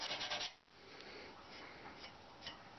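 Honing stone rubbed along the teeth of a two-handed crosscut saw to remove the burr, faint close scraping strokes with a few light ticks.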